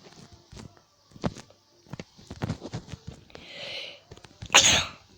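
A single sharp, loud sneeze near the end, preceded by soft footsteps and shuffling in a quiet room.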